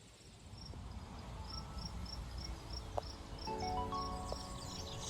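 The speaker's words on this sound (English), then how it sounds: "listening to the crickets" Crickets chirp outdoors at night beside an off-grid cabin, a steady pulsing trill at a moderate distance over a low background hiss, with a faint bird call toward the end.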